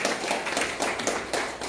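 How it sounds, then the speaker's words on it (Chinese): Audience applause at an evening sharing session, heard as a brief burst of irregular claps from a nearby crowd, fairly loud and uneven in rhythm, with no voices over it. "再给大家一个热烈的掌声"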